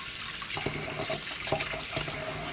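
Rice being rinsed in water, steady splashing and swishing with soft intermittent clunks of grains and bowl, close and continuous, with no voices.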